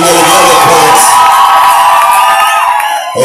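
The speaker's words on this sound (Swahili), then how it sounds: "Wapi kelele, shangwe na vigelegele" A large congregation at a church gathering erupts in loud, close cheering and high whooping calls, a continuous roar of voices that holds strong before dropping off abruptly at the end.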